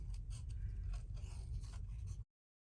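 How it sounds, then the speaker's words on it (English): Scissors fussy cutting fish shapes out of stamped paper card, a steady close crunching and snipping scrape that runs for about two seconds and then stops dead into silence. "So now, these fish, we're gonna fussy cut them out."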